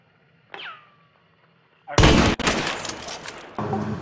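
Video game gunfire erupts in a loud, dense burst of rapid shots about halfway through, after a brief synthetic whoosh, then continues with sustained heavy firing until the end, with nobody talking over it.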